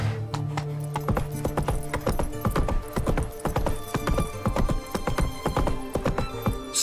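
A horse's hooves trot steadily in the video game Witcher 3, a rapid, continuous clip-clop rhythm that stays close and fairly loud throughout.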